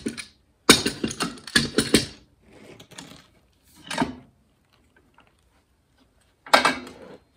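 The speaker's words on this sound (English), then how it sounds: "Clamp it in place." Clamp tightened onto a metal channel on a workbench, a close series of sharp ratcheting clicks and clunks in bursts separated by quiet pauses.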